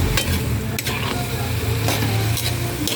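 Loud continuous sizzling of a pork and upo vegetable stir-fry in a hot pan as soy sauce goes in, with steady frying hiss and occasional stirring scrapes, no talking.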